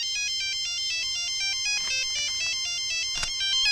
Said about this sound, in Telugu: నీ దగ్గర సెల్ ఫోన్ ఉందా? ఏ ఫోన్ వస్తుందా?